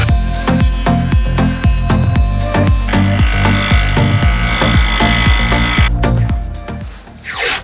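A jigsaw chatters loudly and rapidly cutting through a Ford Transit van roof, its rhythmic rasping strokes continuing for several seconds before shifting pitch and fading out.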